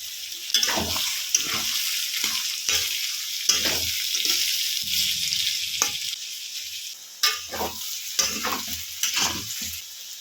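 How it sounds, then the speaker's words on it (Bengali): Onions tossed into potatoes frying in a pan, a constant close sizzle with a series of scraping stirs from a spatula over it and a brief louder burst partway through, and nobody speaking. "আলুটা দু চার মিনিট ভাজা হয়ে গেছে এবার এর মধ্যে আমি পেঁয়াজগুলো দিয়ে দিলাম"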